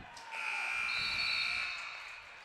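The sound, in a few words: buzzer ending the third quarter of a basketball game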